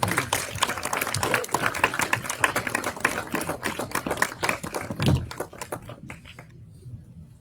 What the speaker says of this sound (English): Will you please give him a round of applause?